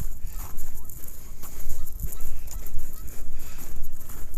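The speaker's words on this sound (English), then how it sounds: "I hear geese." Geese honk near a bridge in Annapolis, with repeated calls over outdoor background noise.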